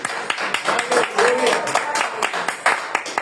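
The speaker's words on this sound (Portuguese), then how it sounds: "uma salva de palmas para Jesus" A congregation at a church family service breaks into a lively round of applause, dense overlapping clapping filling the room with voices mixed in throughout.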